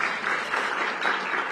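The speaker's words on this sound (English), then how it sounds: "Give him another round of applause." A luncheon audience applauds at an event hosted by the DC mayor, steady dense clapping filling the whole stretch at even strength with no pauses.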